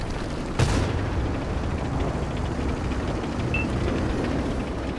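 A tank gun fires once in a video game, a single sharp boom near the start over a constant low engine-like rumble that continues to the end, with no voices.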